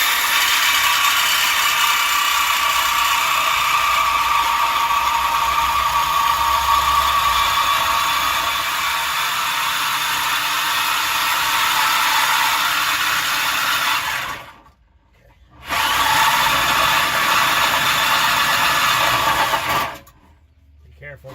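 A saw fitted with a short 6-inch cobalt bimetal blade cuts through the catalytic converter pipe on a Dodge. It makes a sustained, harsh rasping whine that stops briefly twice, with an abrupt break around the middle.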